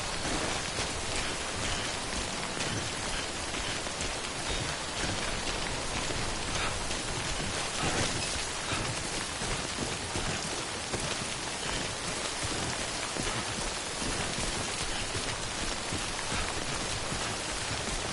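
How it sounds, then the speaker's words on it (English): Heavy timefall rain in the Death Stranding video game pours steadily as a dense, even hiss of falling drops that stays constant and loud throughout, with no voices. "Don't stay out in the rain any longer than you have to."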